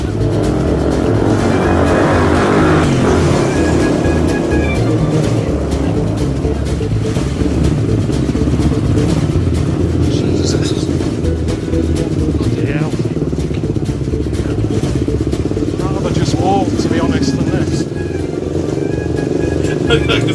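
A motorbike ride through the streets of Brazil: a steady engine drone and road rumble run the whole time, with passing traffic and voices mixed in beneath.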